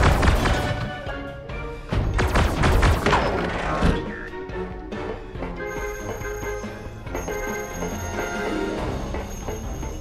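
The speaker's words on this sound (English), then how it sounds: "Turbo cannons, fire!" Turbo cannons fire in a Guardians of the Galaxy video game battle: a burst of heavy booming thuds and crashing impacts, then ringing tones and a sustained electronic hum as the barrage fades under a musical score.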